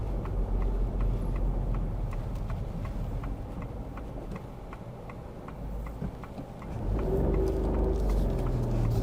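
A learner driver's car engine revs too hard with too much gas, a steady low rumble that dips slightly and then swells louder toward the end, with faint rhythmic ticking throughout.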